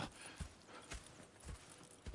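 Horse hooves clip-clop at a walking pace in Red Dead Redemption 2, a few heavy, fairly close thuds spaced irregularly over a soft ambient background.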